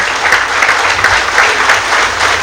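Loud, enthusiastic clapping from an audience at a poetry book launch gathering, many hands beating in a dense, pulsing wave that carries on steadily throughout.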